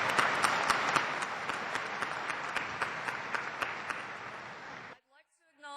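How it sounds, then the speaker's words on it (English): Audience applause at a 2012 WSU graduation ceremony for a legislative representative, a steady dense wash of many hands clapping with sharper individual claps, running about five seconds before cutting off abruptly into near silence and a brief voice. "Let's give him a round of applause."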